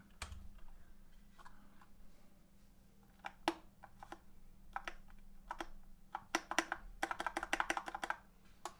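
A Vaporwave spacebar keycap is fitted onto a Durgod Venus 60% keyboard: scattered light plastic clicks and taps, then a dense flurry of rapid clicks near the end.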